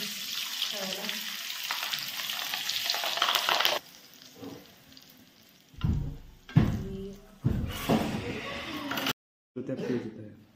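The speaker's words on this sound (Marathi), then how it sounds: "हे तळून घ्यायचं वडापावसाठी खायला." Green chillies for vada pav fry in hot oil with a loud bubbling sizzle, broken by stirring clatter. The sizzling drops and swells in bursts, and a person speaks between them.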